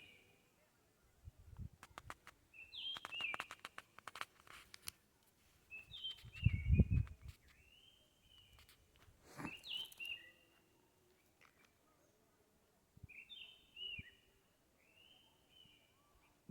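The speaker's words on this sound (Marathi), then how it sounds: "बघा आता तुम्हाला 2 पक्ष्यांचा आवाज येत असेल." Two birds call back and forth outdoors in a village at dusk near jackfruit trees, repeated short chirping phrases spread across the clip at moderate distance, with a few low thumps and handling noises between calls.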